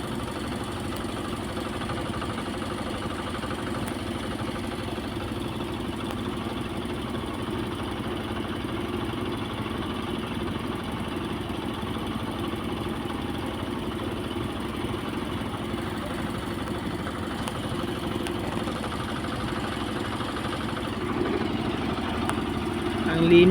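Large fishing boats idle at night by the sea, a steady low engine drone holding constant and unbroken in the background.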